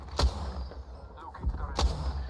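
Gunfire in Apex Legends: three sharp, booming shots spaced roughly evenly apart, loud and close, over low game background rumble, with no talk.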